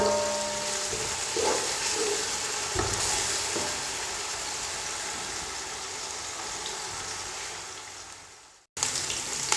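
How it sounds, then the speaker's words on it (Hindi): Ginger and garlic paste fries in a pan with a steady, dense sizzle and occasional stirring scrapes, broken by a brief cutoff near the end before the sizzle resumes. "अच्छी तरह अदरक और लहसुन के पेस्ट को फ्राई कर लेंगे।"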